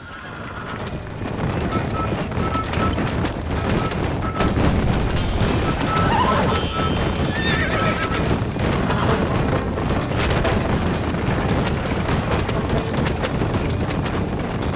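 Horse galloping in the video game Red Dead Redemption, steady rapid hoofbeats with occasional whinnies and game ambience running continuously at moderate loudness.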